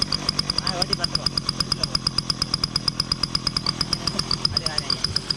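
A homemade ATV built from an old TVS 50 engine runs after starting, its small engine chugging in a rapid, even, loud pulse with a buzzy, high-pitched edge and faint talk in the background.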